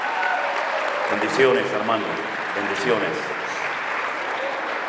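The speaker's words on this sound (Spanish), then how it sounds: "Nuestro hermano Armando, le damos un fuerte aplauso en esta mañana." Applause in a church service for Armando, a congregation member, spreading through the room under a voice speaking over it.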